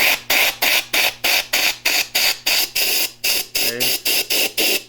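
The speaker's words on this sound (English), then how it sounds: "The air hose nozzle here." Air hose nozzle blowing dust and shavings off a wood lathe with a shop-made captive tool rest, loud sharp hissing bursts repeating in a rapid, even rhythm, close up.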